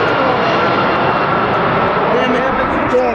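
A camera drone flies overhead for an aerial shot, its steady, loud whine going on without a break as people talk nearby.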